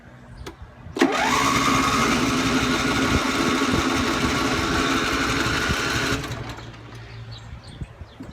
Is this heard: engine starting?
yes